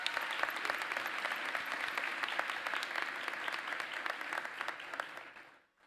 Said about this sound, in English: Please give these educators another round of applause.